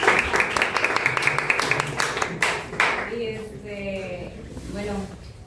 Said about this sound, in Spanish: un aplauso de ellos